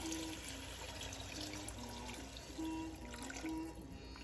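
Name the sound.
pouring beef broth into keema curry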